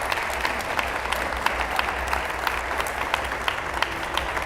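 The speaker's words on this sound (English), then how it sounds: "I think that also deserves a round of applause." Steady, dense applause from a panel audience at the VV23 Global Perspectives event fills the room, an even roar of many hands clapping at once with no voices standing out.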